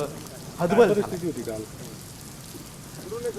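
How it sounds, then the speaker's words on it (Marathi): Heavy rain in Sinnar, Nashik, hisses on surfaces throughout, a dense even patter, while a voice briefly speaks over it. "सिन्नर मध्ये गेल्या चार दिवसांपासून सतत पाऊस पडतोय"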